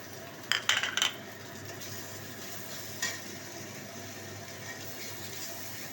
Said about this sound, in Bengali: মশলাটা দেওয়া মানে দিয়ে দিয়েছি পুরোটা, হালকা ভাজা ভাজা হবে